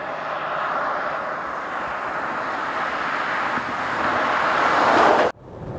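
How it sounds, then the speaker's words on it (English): A Bentley Continental R Mulliner driving on a road test, a steady loud engine and road roar that swells slightly before cutting off abruptly near the end. "I'm going to take it out for a road test and let you experience the actual sound and the feel, if you like, of this kind of car."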